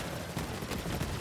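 Video game Borderlands 3: a dense, loud burst of rapid gunfire and explosions crackles continuously, with sharper shots standing out in the barrage.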